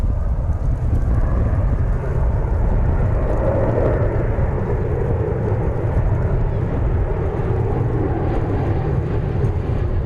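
Steady loud jet roar from an American Airlines Airbus A321 at DFW Airport, a continuous broadband rumble holding for the whole stretch, with a faint voice underneath.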